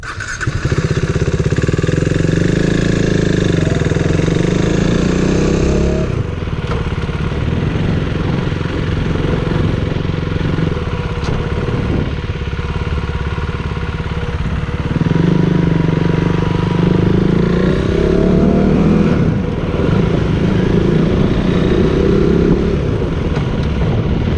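A motorcycle engine running loud and close while gears are shifted, its steady drone dipping and changing pitch around each shift, with no voices.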